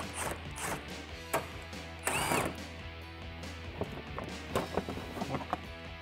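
A hand ratchet clicks while removing bolts from plastic trim on a Mustang fender, short quiet bursts of ratcheting with a few louder knocks of the tool.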